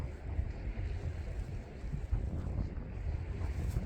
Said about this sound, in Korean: 바람이 불긴 하는데